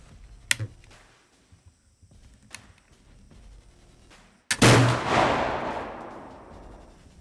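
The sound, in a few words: rifle gunshot at target range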